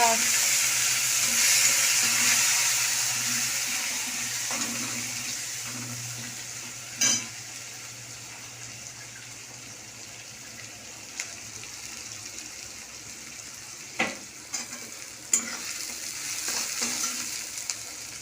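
Onion frying in a pan with a fish head and ground spices, a steady broadband sizzle throughout with a few sharp clinks and stirring knocks near the end.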